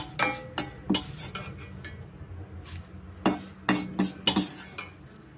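A spoon mixing avalakki chuda, a crisp flattened-rice snack, in a bowl: quick, bright clinks and scrapes come in short bursts, close and fairly loud, with brief pauses between them.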